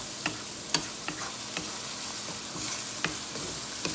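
Spice masala for dhaba-style samosa filling sizzles steadily in a pan while a spoon scrapes and stirs it in several sharp clicks, close and moderately loud with no talking.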